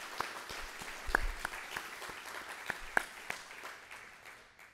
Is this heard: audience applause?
yes